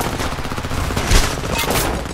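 Heavy gunfire in a firefight in the video game Homefront on PS3: dense, continuous bursts of automatic fire with a louder blast near the middle, loud and close throughout.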